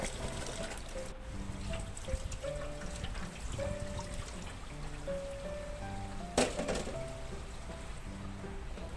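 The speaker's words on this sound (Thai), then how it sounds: "ล้างให้สะอาดนะเจ้า ล้างจนกว่าน้ำจะใสเลยเจ้า" Pork liver rinsed under running water until the water runs clear, a steady trickle and splash with faint handling sounds throughout, no voices.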